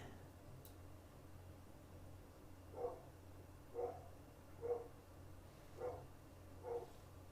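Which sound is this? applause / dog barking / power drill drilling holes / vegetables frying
dog barking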